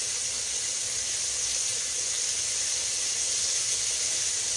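Onions hit a hot pan beside frying country fried steak, giving off a steady, dense hiss that stays even and close throughout with no voices.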